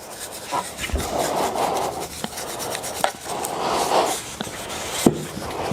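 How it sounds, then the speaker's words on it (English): A brush works stain into reclaimed wood with repeated soft rubbing, scrubbing strokes in a loose rhythm, close by, with a few light taps and knocks in between. "I could take the brush again and just start going around all these little nooks and crannies, making sure I get the stain in these sections first"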